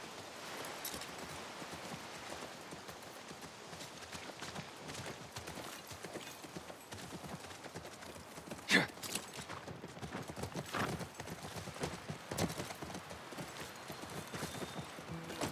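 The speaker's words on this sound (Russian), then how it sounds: "Теперь идем к лошадям." Horses in The Last of Us Part 1 remake on PS5: a steady, moderately quiet clip-clop of hooves continues throughout over a soft outdoor ambience.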